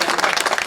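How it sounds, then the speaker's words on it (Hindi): Crowd applause at a food-package distribution event, a dense wash of many hands clapping steadily and loudly for under a second, with no voice above it. "तालियां तो हो जाए जोर से।"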